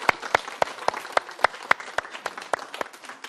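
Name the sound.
audience applause at laughter lecture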